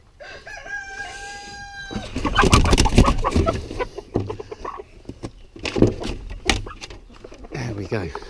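Chickens near a backyard coop, with high rooster-like calls at first, then loud clucks, squawks and fluttering movements close by.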